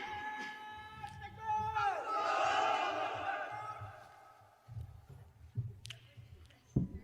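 A large crowd at an Islamic religious gathering shouts a takbir in loud unison, a swelling collective roar lasting a couple of seconds before it fades and a lone voice resumes with scattered sounds.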